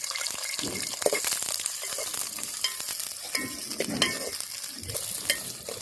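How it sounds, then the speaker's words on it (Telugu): Steady sizzling of green chillies and onions frying in hot oil, with occasional clinks and stirring scrapes throughout. "ఆయిల్ అయితే వేడిందండి పచ్చిమిర్చి ఆనియన్ అయితే వేస్తున్నాను"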